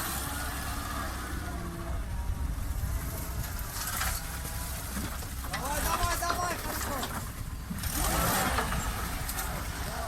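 A car engine revving as the vehicle drives off through a forest, a rough low drone rising and falling over about ten seconds, with voices talking and shouting over it.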